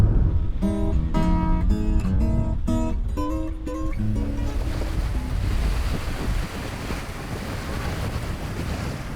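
Waves washing onto the Jamaica Bay shoreline at high tide in spring, a loud continuous rushing surf with wind noise, overlaid during the first few seconds by a run of short tonal notes.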